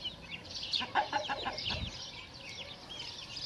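Chickens and a rooster clucking and calling, several birds at once with overlapping chatter, moderately close and fairly steady.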